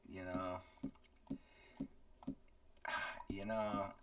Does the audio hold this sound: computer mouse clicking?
yes